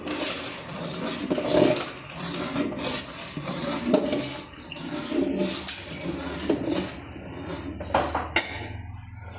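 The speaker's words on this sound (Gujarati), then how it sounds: "બાફેલા વટાણા હતા એ બધા આપણે આમ નાખી દીધા, અને વ્યવસ્થિત આપણે મિક્સ કરી દઈએ" Boiled peas being stirred into a pan for pav bhaji, with a steady run of scraping, rubbing and light clinks of a spoon against the pan, close and moderately loud, no talking.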